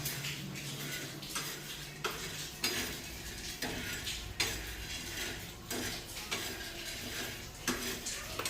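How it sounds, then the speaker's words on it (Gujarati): Salted chickpeas roast in a pan while a spoon stirs them, giving repeated scraping strikes and rattles over a soft, steady sizzle, close and moderately loud. "મીઠાવાળા કરીને ચણા શેકે છે"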